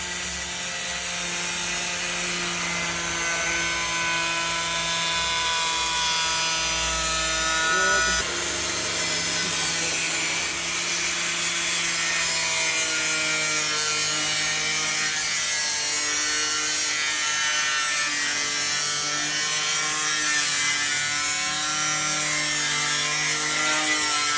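A cutting tool slices through the fender of a Toyota GR Yaris, fitted for a Pandem Rocket Bunny widebody, with a loud, continuous, close grinding rasp that keeps a steady whine throughout.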